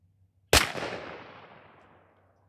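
A single Winchester Defender 00 buck over 1 oz slug shotgun shell fired through a cylinder bore choke, one sharp loud blast after near silence followed by a long rolling echo fading over about two seconds.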